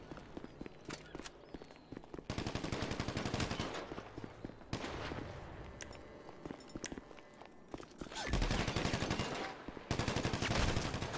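Heavy pistol fire in GTA Online comes as rapid repeated shots in several bursts, fairly quiet overall, with running footsteps and game ambience between the volleys.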